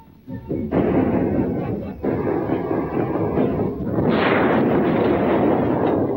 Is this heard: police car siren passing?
no